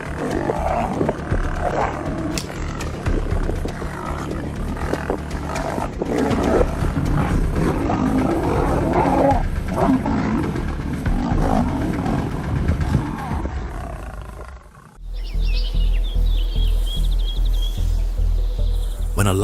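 A lion roars in open savannah, a low sustained rumbling growl over a loud wildlife soundscape that runs through most of the stretch before cutting to a different, quieter ambient background near the end.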